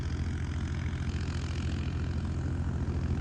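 A tractor without a turbo labours under heavy load while pulling a machine, a loud, steady, low droning engine roar with a strained, constant pitch and no voices.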